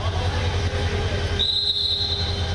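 A passenger train at Kamalapur railway station in Dhaka during the Eid holiday rush, with loud continuous rumble and a sharp high wheel squeal setting in partway through.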